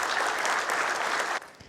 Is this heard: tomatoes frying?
no